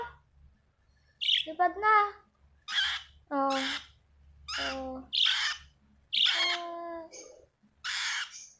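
Small parakeets give sharp, squawky chirps close by in repeated bursts with short pauses, while a person talks between the calls.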